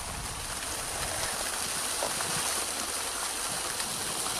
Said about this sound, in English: I find a stunning little upper tier waterfall not visible from down below